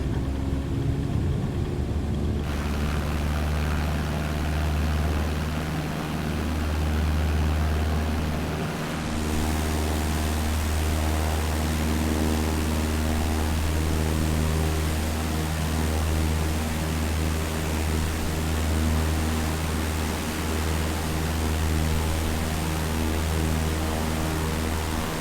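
Single-engine Cessna 152 piston engine in Microsoft Flight Simulator during a rolling takeoff, a steady loud droning hum with constant low harmonics holding throughout, no voices.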